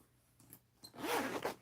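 Zipper on a handmade bag with a recessed zipper, pulled open or closed in one continuous rasping run that swells loud near the end after a few faint clicks.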